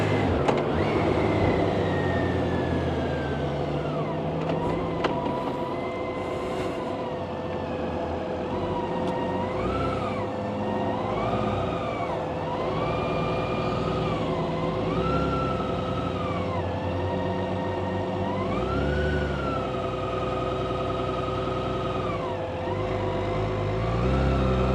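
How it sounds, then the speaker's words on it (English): A BMW K1600 GTL motorcycle cruises on a Sunday ride in New Mexico, its engine note holding a steady drone with rising and falling pitch sweeps as it shifts and accelerates, loud and continuous with wind noise throughout. "This is a BMW K1600 GTL."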